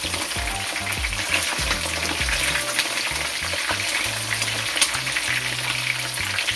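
Parrot fish frying in oil in a pan on a stove set high, a loud continuous close sizzle with dense crackling and popping, steady from start to finish with no voices.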